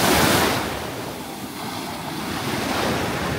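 Sea waves wash in on Puka Beach, a steady broad roar of surf with wind buffeting the microphone, loud at first and then settling into a continuous rush.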